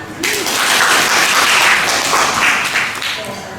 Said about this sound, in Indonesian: Terima kasih untuk Yuda, tepuk tangan.